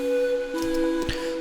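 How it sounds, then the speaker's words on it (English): Airy synth pad built in Serum from a sine wave layered with a little saw and white noise, a steady sustained tone with a soft breathy hiss, heard alone. "It's a sine wave and a little bit of saw, I think, as well as some white noise."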